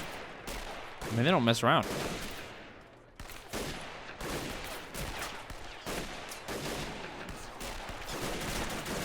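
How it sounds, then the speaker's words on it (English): German machine guns and rifles fire in Men of War: Assault Squad 2 during an early-war WWI urban bridge battle. Dense bursts and scattered shots crackle steadily beneath someone talking. "German machine gunners are pretty hardcore."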